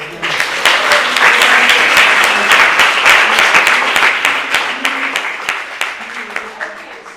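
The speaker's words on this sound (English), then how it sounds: "I think we can do the massive round of applause at this point." Audience at an academic conference session on racial standpoints gives a loud, sustained round of applause, dense overlapping claps that gradually thin out toward the end.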